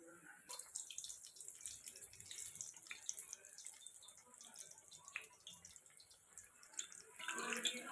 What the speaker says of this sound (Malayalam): ഇതൊന്ന് കഴുകി തുടച്ച് വയ്ക്കാം.